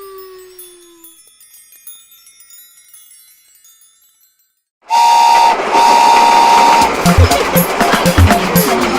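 A steam train whistle blasts loudly in two long tones after a quiet musical opening, followed by hissing steam and chuffing train noise in a children's song setting.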